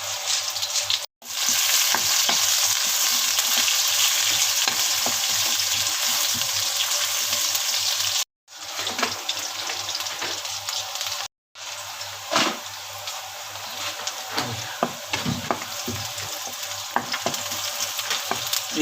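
Whole spices, including black peppercorns, fry in hot oil for a mince and capsicum dish, a loud dense crackling sizzle that runs close and continuous, cut by a few brief silent gaps, with intermittent stirring clicks and no talk.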